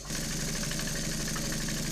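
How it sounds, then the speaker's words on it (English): Stuart S50 model steam mill engine driven by a Stuart 501 boiler, running steadily with a continuous rhythmic chuffing and mechanical whir at close range, no talking. "Stewart 501 boiler and the Stewart S50 mill engine running as it should"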